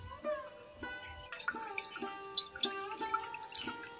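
Water drips and trickles while raw potato paste is strained through cotton cloth in a kitchen, with scattered pitched drops and splashes, sparse at first and then busier, fairly close and alone.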